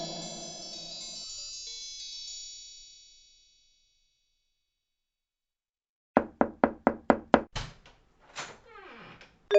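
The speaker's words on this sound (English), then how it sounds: "the sound that you just heard was the sound of the Amazon tap." An Amazon Tap speaker gives a sustained bright chime that fades out, then after about three seconds of silence a run of sharp, evenly spaced knock-like taps and clicks, loud and close.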